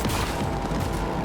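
Rapid gunfire from the video game Cyberpunk 2077, a dense burst of shots and booms running through the whole moment, loud and close with no pauses.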